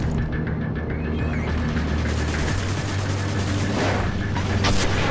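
A large enemy in The Nexus fires a continuous, loud, mechanical rattle of gunfire amid busy combat noise, with no talking.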